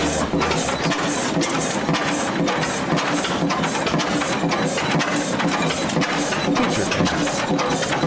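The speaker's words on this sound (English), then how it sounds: "First on display is a multi-cylinder Fairbanks Morse Model, renowned in the early 20th century for its smooth, reliable performance" A multi-cylinder early 20th century Fairbanks Morse engine idles on its foundation at a display, giving a steady, busy mechanical clatter of rapid, evenly repeating beats that runs throughout with constant loudness.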